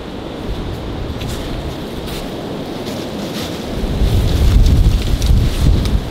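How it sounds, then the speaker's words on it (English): Strong wind buffets the microphone outdoors at the abandoned Farm Colony on Staten Island, New York, with a low roaring rumble that swells louder in the second half. "Very windy."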